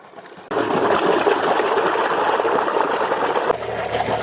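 Water runs and splashes steadily and close by as cow tail pieces are rinsed with turmeric, a continuous gushing rush with no voices.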